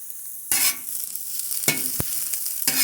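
Sliced organic mushrooms sauté in a hot pan with a loud, close sizzle, and repeated bursts of stirring and scraping break up the frying.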